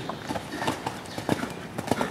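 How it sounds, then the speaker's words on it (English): Hooves of a horse being ridden through turns and a flying change in a riding arena, clip-clopping in a steady rhythmic beat of soft thuds, fairly close and clear with no talk over them. "The horse goes forward off that turn"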